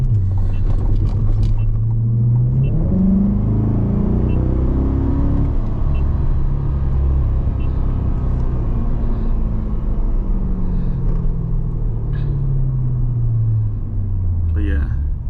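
A fast C8 Corvette driven in Sport+ mode rumbles loudly and steadily from inside the cabin, its engine note rising and falling through gear changes and revs, with a voice talking over it.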